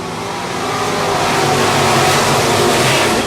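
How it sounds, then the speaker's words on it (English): Stock race cars roar off at the green flag start at Cotton Bowl Speedway, a dense, loud, sustained wall of engine noise building and holding steady from the pack. "Picking up the throttles, the green flags in the air. We're underway."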